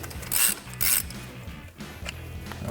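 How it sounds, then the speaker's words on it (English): Ratchet with a 13mm socket loosening a front brake line banjo bolt on a 2015-2023 Mustang GT during a brake kit install, two loud clicking bursts of ratcheting followed by quieter clicks and mechanical rattles. "So I'm gonna take a 13mm socket to remove this banjo bolt."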